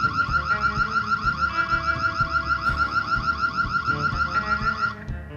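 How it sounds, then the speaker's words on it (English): Electronic alarm on a birdhouse blares a continuous warbling, cycling tone at close range for about five seconds, then cuts off abruptly, set off to scare squirrels raiding the bird food. "my shit's got an alarm system"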